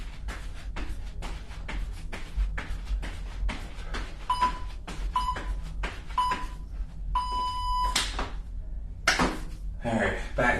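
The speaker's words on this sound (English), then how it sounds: "Still trying to figure out my Tabata timer." A Tabata interval timer emits a run of four short, high electronic beeps followed by a longer final beep, heard during a workout over a steady rhythmic thumping and background noise.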